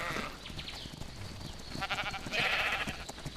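Sheep in ARK: Survival Evolved bleat a couple of times at middle distance over game ambience, with a louder, drawn-out bleat near the end.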